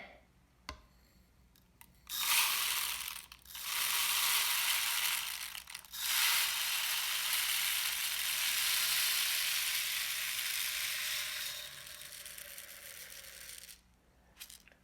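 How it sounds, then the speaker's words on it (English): Bird seed pours through a funnel into a feeder, a close rushing, rattling hiss in a few bursts with short pauses, then a softer trickle. "now the fun part, we get to fill it with bird seed. I'm going to use a funnel to make sure that everything gets in there"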